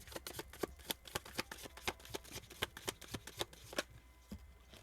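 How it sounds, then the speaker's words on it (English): Tarot cards riffle and slap together in a quiet room, a rapid run of crisp close-up shuffling taps with short pauses between bursts, no voices. "I want to do another shuffle for some reason here"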